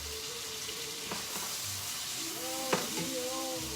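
Philly cheesesteak filling for stuffed peppers sizzles in a hot pan, a steady frying hiss with a few stirring scrapes and clinks, close and moderately quiet, with a faint voice in the background.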